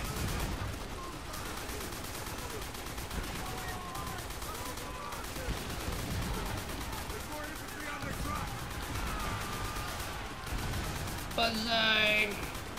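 Dense battlefield gunfire from World at War on a Hard Landing airfield defense, rapid rattling bursts layered over steady combat noise, with a harsh mechanical whine near the end as a gun overheats, and shouted game voices throughout.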